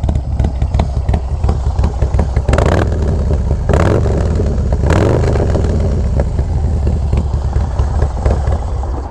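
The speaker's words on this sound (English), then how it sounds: "Nice deep tone with a light rasp to it." A 2024 Harley-Davidson Low Rider ST with an SP Concept exhaust and big bore revs hard close by, its deep tone carrying a light rasp, with three sharp throttle blips climbing over a steady loud idle and no voices.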